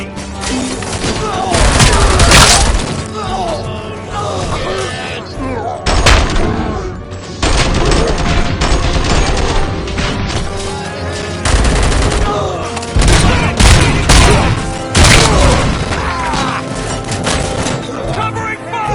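Sustained gunfire in the Robocop Rogue City video game, dense bursts of automatic and single shots with booms throughout, loud and close, with game voices shouting over the shooting.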